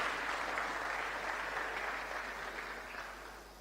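Audience at a church conference hall claps hands in a broad, dense wash of applause that holds steady and slowly tapers off.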